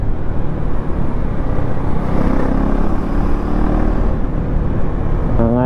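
A stock KTM Duke 390 Gen 3 motorcycle is ridden on a road, its engine a loud continuous drone mixed with wind rush, close to the rider and steady throughout, with a brief rising engine note near the end.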